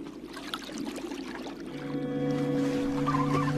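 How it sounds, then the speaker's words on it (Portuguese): Sea lion pups splash water in a rock pool, making a steady watery wash, and high tonal calls rise over it toward the end. "A jovem ouve os outros filhotes espirrando água na piscina."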